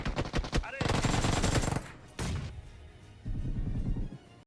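Gunfire in the mobile battle royale game BGMI, fast automatic bursts and rattling shots in quick succession, loud and close, with breaks and a rumbling tail between volleys.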